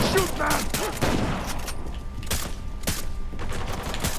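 Gunfire in Uncharted: The Lost Legacy, sharp repeated shots cracking loud and close over busy game noise, several spaced blasts in quick succession.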